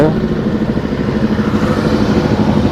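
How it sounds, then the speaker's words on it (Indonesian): A motorcycle engine runs close by, a loud, steady, low throbbing with a slightly uneven mechanical chug that holds at a constant level without a clear start or rising rev. "kayak motor kayak gini, ini nanti langsung di start, langsung digas, dibejek"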